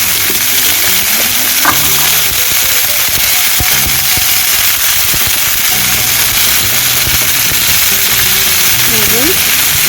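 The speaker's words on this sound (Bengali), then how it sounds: "এটাকে ভেজে নিতে হবে" Japanese punti fish fry in a pan with a loud, constant sizzle and spitting crackle, interrupted by scattered pops and a few faint background sounds.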